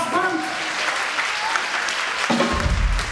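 A concert audience claps, a dense, sustained patter under a voice speaking over it, with a low rumble joining near the end.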